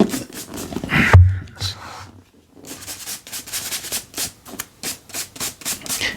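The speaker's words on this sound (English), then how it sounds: "scrape down with the old brush here." An old brush scrapes rhythmically across the top edges of vintage books, producing repeated short dry rasping strokes, close and fairly loud, with a brief pause partway through.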